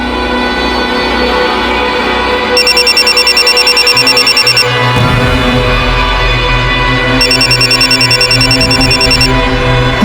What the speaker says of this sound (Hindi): भाभी साहब का फोन बज रहा है